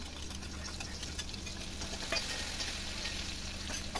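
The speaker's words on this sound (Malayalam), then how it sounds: "വെളിച്ചെണ്ണ ചൂടായി വരുമ്പോഴേക്കും നമുക്കതിലേക്ക് വെളുത്തുള്ളി ചതച്ച് ചേർത്ത് കൊടുക്കാം" Crushed garlic sizzles in hot coconut oil for a beef curry, a steady dense frying hiss with faint crackles and a few light stirring taps, close and continuous with no talking.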